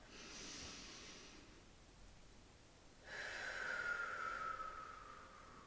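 Soft, close breathing during a pelvic floor exercise: a gentle inhale, a pause, then a longer, airier exhale, all very quiet with no speech.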